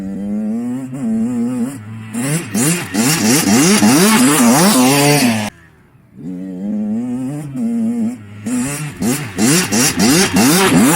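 Dirt bike ridden hard through a section of whoops, its engine revving up and down in rapid rhythmic surges, loud and close, with a brief drop in engine noise midway before the pulsing throttle resumes.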